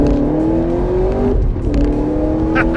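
An HSV GTS car accelerates hard with a loud, steady engine roar rising in pitch, a brief dip as it shifts gear, then pulls on strongly again.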